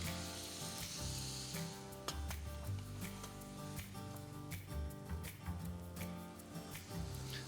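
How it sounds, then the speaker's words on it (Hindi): Mutton and tomatoes fry together with salt in a pan, giving a soft, continuous sizzle with occasional stirring clicks, largely under louder background music with sustained tones and a beat. "टमाटर गोश्त को साथ में भूनना है"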